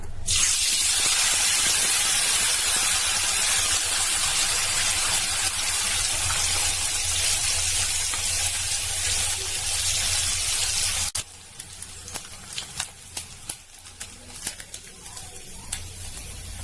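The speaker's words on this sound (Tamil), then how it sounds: "எண்ணெய் நல்லா சூடாயிடுச்சு. இப்ப போட்டு பொரிச்சுக்கலாம்." Loud, steady sizzling and crackling of hot oil as anchovies fry fills the first stretch, then drops to a quieter bubbling with scattered pops.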